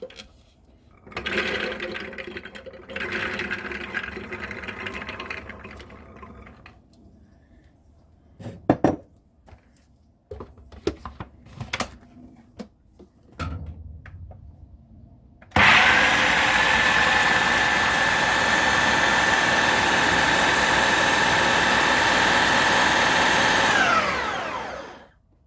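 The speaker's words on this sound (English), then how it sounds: "I'm going to take my chickpeas and blitz them" Soaked chickpeas for Lebanese falafel are blitzed in a blender or food processor. After a stretch of clattering, handling noises and brief motor pulses, the machine runs as a loud, steady whine for several seconds and then winds down.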